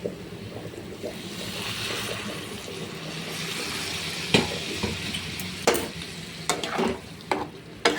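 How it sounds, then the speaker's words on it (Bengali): Hot water poured into a pot of jackfruit curry, a bubbling, rushing sizzle that builds and churns, punctuated by several sharp knocks and clatters of utensils toward the end. "গরম জলটা আমি দিয়ে দিচ্ছি"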